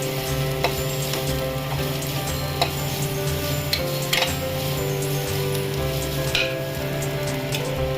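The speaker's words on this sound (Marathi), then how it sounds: "आता मी त्यात टाकणार आहे शेंगदाण्याचं कूट, 1 वाटी शेंगदाण्याचं कूट। आपण व्यवस्थित असं परतून घेऊ।" Ground peanuts being sautéed in a pan for a Malvani-style bitter gourd chutney, giving a steady soft sizzle with occasional light scrapes and stirring clicks, close and continuous with no talking.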